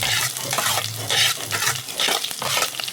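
Onions sizzling as they sauté in oil in a clay pot, a steady broadband frying hiss with stirring scrapes and small surges, close and fairly loud, no talking.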